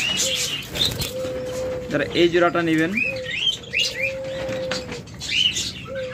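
Caged budgerigars, cockatiels, lovebirds and diamond doves at a bird market chirp and tweet in quick bursts, close by, while someone talks over them.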